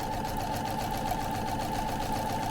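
A sewing machine stitching down the center of tape on a quilt panel, running in a steady, continuous mechanical hum close by with no talk.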